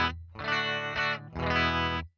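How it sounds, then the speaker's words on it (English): Electric guitar through the 67 Black Shimmer amp model, based on a Fender Dual Showman, on a Headrush MX5: three clean, bright sustained chords in quick succession, close and moderately loud, with no talking. "I'm going to go down to the 67 Black Shimmer, which is based on a Fender Dual Showman."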